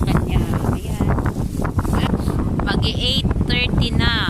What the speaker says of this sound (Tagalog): Lakas kasi ng hangin, mahirap mag-video ngayon kasi malakas talaga ang hangin.